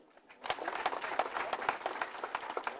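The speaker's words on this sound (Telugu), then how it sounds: "వేము గారు చప్పట్లు కొట్టండి" An audience at an audio release event claps, with a quiet start and then a burst of many hands building into steady, fairly close applause.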